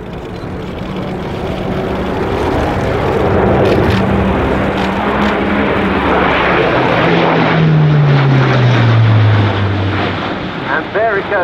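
An Airbus A400M turboprop military transport climbs steeply after take-off, its loud propeller and engine roar filling the air and the pitch sliding downward as it pulls away, with a voice talking over it.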